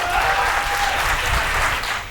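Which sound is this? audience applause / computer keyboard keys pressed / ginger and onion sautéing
audience applause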